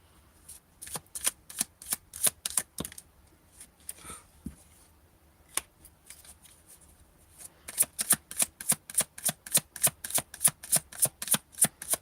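A long-used deck of cards being shuffled, with quick crisp riffles in bursts, a pause with a few scattered flicks, then a steady run of rapid, close riffles, no voice heard.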